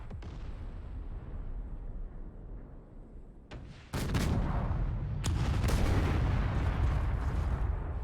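Artillery fire in a tank battle video game: a low rumbling backdrop, then heavy booming blasts from about the four-second mark that hit close and loud and keep rolling without a break.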